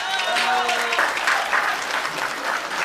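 Steady, dense audience applause at a county folk ensemble contest for rural women's groups, loud and continuous throughout, with a faint voice and a sustained tone fading early on.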